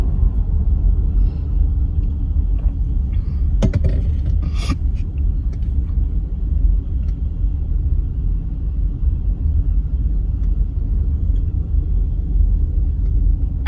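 Steady low rumble of a car driving slowly through heavy morning commuter traffic, with a couple of brief clatters and knocks early on and no voices.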